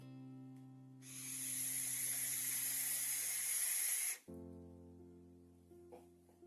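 A deep, steady inhale of vapour drawn from an electronic cigarette makes a loud, close rushing hiss that lasts about three seconds, then cuts off sharply over a low background hum.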